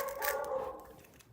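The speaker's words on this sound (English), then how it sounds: "They like barking at stuff." Dogs barking in a room during a speedcubing practice session, a couple of loud yaps early on fading to faint sounds by the end, no talk over them.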